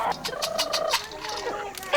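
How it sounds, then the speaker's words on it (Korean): A chicken squawks and clucks in agitated bursts while being caught in the yard of a Sherpa family home in Nepal, close and fairly loud, with overlapping cries throughout. "그 사이 마당에선 닭을 잡느라 바쁘다."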